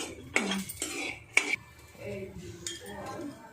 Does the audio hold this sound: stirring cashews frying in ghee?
yes